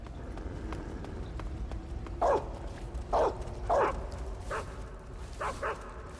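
A guard dog in the stealth video game Metal Gear Solid 3: Snake Eater barks in short sharp bursts, several separate barks spaced over a few seconds above a low ambient game background.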